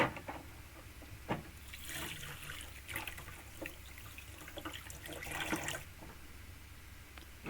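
Water runs steadily from a tap, faint and continuous, with a few soft knocks and splashes.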